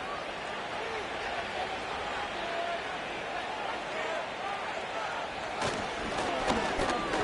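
A football stadium crowd keeps up a steady roar of cheering and shouting that fills the air, with a few sharp bursts of noise near the end and no clear voices above it.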